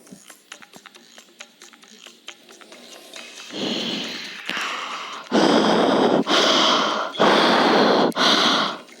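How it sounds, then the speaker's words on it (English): Loud, heavy breathing close to the listener, rough rushing inhales and exhales in long bursts of about a second each, rising in force after a quieter, clicky start. "Heavy breathing, lol."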